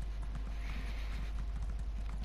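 Horse hooves clip-clop at an unhurried pace in the video game Elder Scrolls Online, a steady, fairly quiet rhythmic beat over a low rumble.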